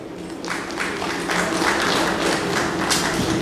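Audience at a book launch in Assam clapping, a steady spread of hand claps building and holding at moderate loudness with a faint murmur beneath.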